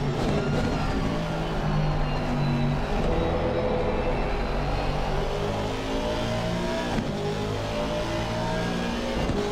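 A simulated Aston Martin GT3 race car at Zandvoort in a racing game, its engine droning steadily and loudly throughout with shifting pitch as it revs and accelerates, no voices over it.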